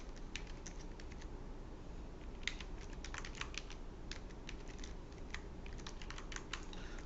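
Quick, light clatter of keys on a computer keyboard as code is entered in R, irregular bursts of soft taps over a steady background hum, no one speaking.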